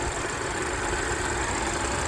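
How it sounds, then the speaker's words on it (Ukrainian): An Audi A7 Sportback's six-cylinder TFSI engine idles steadily with a constant low rumble and hum, close by and unchanging throughout the short stretch. "Дуже потужний мотор, але працює дуже гарно"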